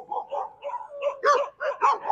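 A Rottweiler and a Bandog on a walk: a run of about eight close barks and yips in uneven rhythm, moderately loud, the later ones sharper and more urgent, with no talk over them.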